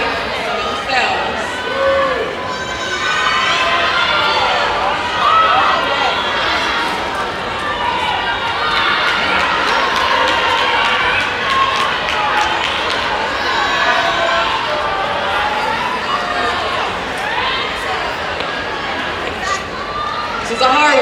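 A crowd at a cheer and dance battle championship cheers and chatters continuously, a loud, dense roar of voices lasting throughout without pause.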